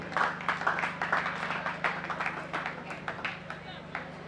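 Audience clapping at a school awards ceremony at Complexe Handré Daves, steady dense applause lasting throughout with a low hum underneath.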